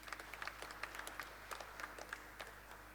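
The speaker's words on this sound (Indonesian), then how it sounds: "Tepuk tangan dulu buatin jemaat ini." A church congregation applauds during a sermon, scattered distinct claps in an uneven rhythm, fairly faint over a steady low background hum.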